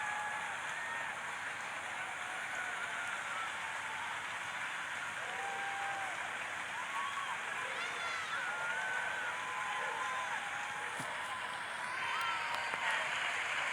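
Theatre audience at a recorded play gives steady, dense applause that fills the whole stretch at an even level, with a few thin whistle-like tones rising over it toward the end.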